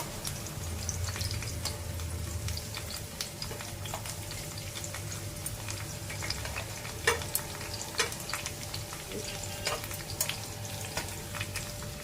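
Stuffed drumstick (sahijan) pieces fry in a pan with a steady close sizzle. Scattered small clacks and scrapes come through as the pieces are turned over, and no one speaks.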